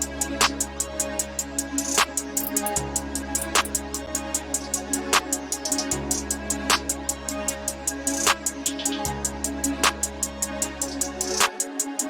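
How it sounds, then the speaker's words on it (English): A busy FL Studio hi-hat pattern ticks steadily with quick rolls, riding over a deep sliding bass and recurring snare-like hits in a trap-style beat, continuous and fairly loud without any voice. "So the final hi-hat pattern sounds like this."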